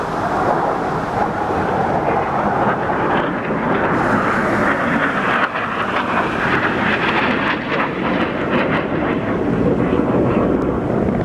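Three CH-46 military helicopters roar loudly and steadily close by, a dense engine and rotor noise mixed with wind buffeting.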